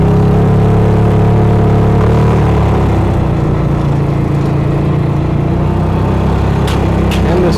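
Massimo Buck 450X gas golf cart UTV, a fuel-injected 4x4 with locking diffs, driven in low gear, gives a steady, loud, close engine drone with a constant low hum and no talking.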